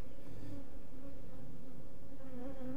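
Dense, steady buzzing of many honeybees swarming around an opened hive during a beekeeper's inspection, a continuous droning hum close to the listener with no talk.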